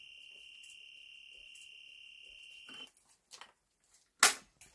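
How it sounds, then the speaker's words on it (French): A voltage tester gives one long, steady high-pitched beep lasting nearly three seconds, followed by a few soft clicks and a sharp knock. "Ce bip sonore m'indiquera qu'il n'y a pas de tension"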